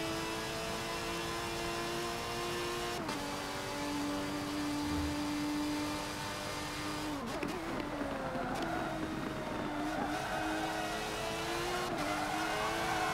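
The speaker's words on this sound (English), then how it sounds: "We got the Hoonigan doing donuts." Ford RS Hoonigan car doing donuts in a racing video game: a sustained engine drone that rises and dips with revving, with tonal wavering and brief breaks in the pitch, steady and moderately loud.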